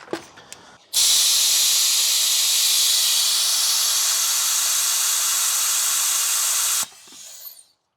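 A vacuum brake bleeder draws air out of a car brake line with a steady, loud hiss that starts abruptly, holds evenly for about six seconds and then cuts off, with a few small clicks before and after.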